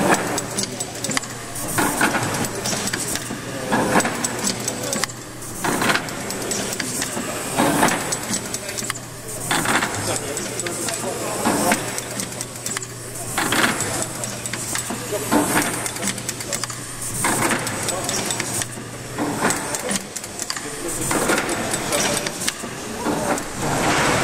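A stationary engine with a true-running flywheel turning at a steady, regular beat, rhythmic mechanical chuffing and clanking repeating throughout, loud and near, with someone talking over it at times.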